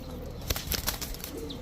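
A female pigeon flaps its wings in several quick, sharp bursts close by, with soft bird sounds and a faint hum between the beats.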